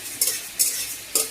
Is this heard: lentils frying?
yes